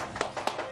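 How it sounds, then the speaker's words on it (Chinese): A few quick hand claps ring out at an even pace in a kitchen during the making of steamed flower rolls, fairly soft and over low background noise. "鼓掌。"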